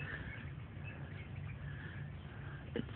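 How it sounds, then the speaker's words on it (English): Small birds call from a tree while light snow falls, their faint, scattered chirps sitting low beneath a steady outdoor hiss, with no voices present. "there's more birds coming."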